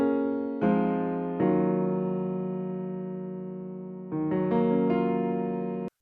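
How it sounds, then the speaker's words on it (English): A sampled piano run through EQ and auto pitch effects, sounding as sustained processed chords that change a few times, with each new chord struck and then slowly fading before cutting off abruptly at the end. "So with the effects turned on, this is what the piano sounds like."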